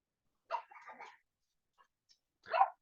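A dog gives a few short, faint barks and yelps: a quick double bark near the start, then a single sharper bark after a pause.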